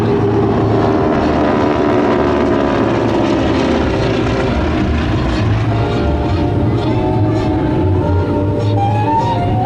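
Propeller-driven warbird fighters, P-51 Mustangs among them, roar low and loud on a strafing run at an airshow in Dover, Delaware, with a continuous, dense engine drone sustained throughout.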